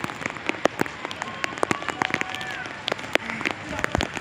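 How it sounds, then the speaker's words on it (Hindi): Heavy stormy rain in Karachi drums on a rooftop, with sharp drips and splats landing close by. Voices can be heard faintly underneath. "बहुत ज़्यादा तेज़ तूफानी बारिश हो रही है"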